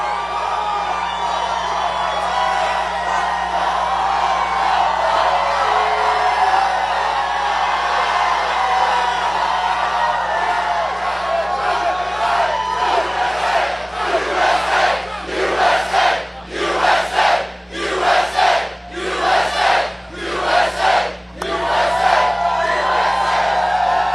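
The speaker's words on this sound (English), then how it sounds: "This is a big crowd." A large outdoor political rally crowd in North Carolina roars and chants, a sustained loud din that breaks into rhythmic, pulsing group chanting toward the end.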